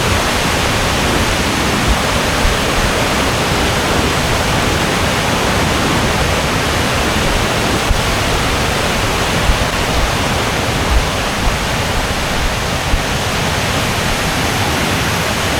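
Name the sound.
waterfall, water flowing fast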